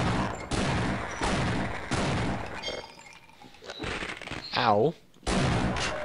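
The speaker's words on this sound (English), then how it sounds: "I just heard a shotgun shell or shot right underneath my feet" Shotgun blasts go off in the Half-Life video game amid a dense mix of game noise, with loud bursts of gunfire, a brief cry, and a short silence before the action resumes.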